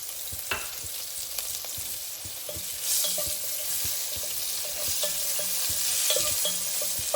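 Cumin seeds and chili frying in hot oil in a home kitchen for egg curry, a steady close sizzle broken by scattered pops and stirring scrapes, with no talk.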